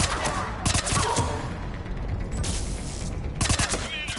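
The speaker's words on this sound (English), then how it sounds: "Commander, we're getting a lot of mortar fire." Mortar fire on a Mass Effect 3 battlefield comes in as loud, rattling bursts of explosive fire at the start and again near the end, with a calmer rumbling stretch in between.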